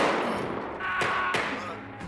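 Two sharp gunshots ring out about a third of a second apart amid a rumbling battle ambience in the World War II film Alone We Fight, with narration underneath.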